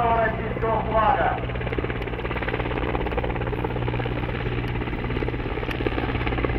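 A Mi-8 / Mi-17 helicopter flying at the MAKS 2013 air show, its loud, steady rotor and turbine drone filling the air, with a voice speaking briefly at the start.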